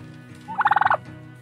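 A turkey belonging to the staff gives one rapid, rattling gobble of about seven quick pulses, close and clear over a low steady background hum.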